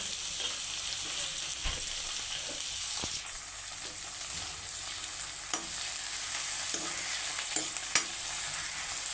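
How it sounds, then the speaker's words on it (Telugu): Onions, green chillies, curry leaves and tomatoes fry in a pan for fish curry, with a steady sizzle broken by a few sharp knocks and scrapes from stirring. "ఉల్లిపాయలు కూడా బాగా ఫ్రై అయిపోతున్నాయి"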